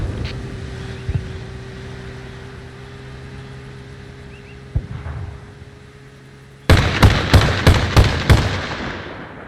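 Gunfire in a NATO-themed military video game: a quiet stretch with a low engine hum and a couple of isolated thumps, then a loud rapid burst of about six sharp shots in quick succession near the end.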